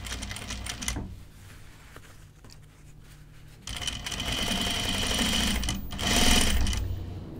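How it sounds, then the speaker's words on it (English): Domestic sewing machine stitching men's Jutland pants, a fast steady whir of needle strokes that starts, pauses briefly, then runs louder and continuous up close. "I think I just had a stitch a different length than the others."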